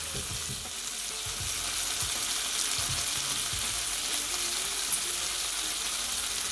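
Vegetables sizzle steadily in a frying pan with a continuous bright hiss, close up, with occasional soft stirring clinks beneath.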